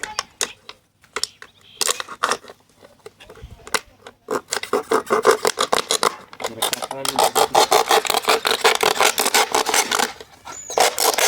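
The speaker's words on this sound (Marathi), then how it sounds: "तर आता बाटलीच्या पाठीमागची बाजू आता आपली कापून झालेली आहे आणि आता आपण कापणार आहोत पुढची बाजू" A plastic bottle being cut for reuse on a damaged cricket bat gives repeated crisp, rhythmic snipping and scraping strokes, sparse at first and then dense and steady, close up.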